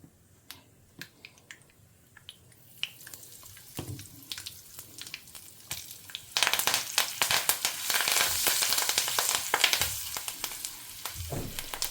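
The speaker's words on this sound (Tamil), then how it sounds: "நான் கடுகு, உளுத்தம்பருப்பு, கடலைப்பருப்பு போட்டுக்கிறேன். பொரியட்டும்." Mustard seeds, urad dal and chana dal splutter in hot oil for a tempering: quiet scattered pops and clicks at first, then a loud dense crackling sizzle swelling midway and holding steady, with occasional knocks, close by, no speech.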